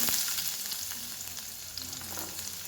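Onion hitting hot oil with mustard seeds in a wok, a close, steady sizzle with light stirring clatter, no talking.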